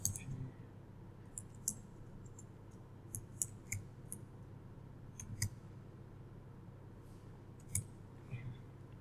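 Light, sharp computer mouse clicks sound at irregular intervals in a quiet room while library software is being used to issue a book, each click brief and close.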